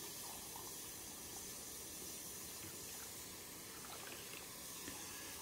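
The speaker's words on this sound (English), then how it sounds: "So this coffee maker pours a little bit different." A Braun MultiServe coffee maker (KF9150BK) pours coffee in a steady, soft, continuous trickle with a faint hiss, alone and fairly quiet.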